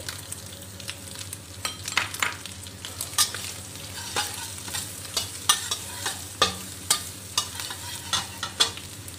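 Dried prawns and garlic sautéing in a pan, a continuous close sizzle broken by repeated sharp scrapes and knocks of a utensil stirring in a fairly regular rhythm.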